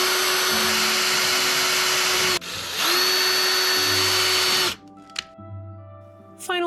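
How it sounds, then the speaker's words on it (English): A power drill pre-drills screw holes in a 3D printed lantern, a loud whining spin that runs, stops briefly, then runs again before winding down into a few small clicks and handling noises. "I'll mark where the screws will go and pre-drill some holes for them in the lantern"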